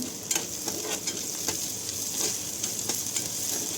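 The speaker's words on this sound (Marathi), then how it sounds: "हळद छान मिक्स करून घेऊया कांदा आणि टोमॅटोमध्ये" Turmeric stirred into onion and tomato in a pan for a dry fish dish, a steady close sizzle with a few soft spoon scrapes across the pan, no voices.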